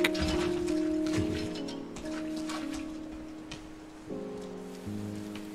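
Steady rain pattering over a broad hiss in the game Rain, with sustained musical tones running beneath it throughout.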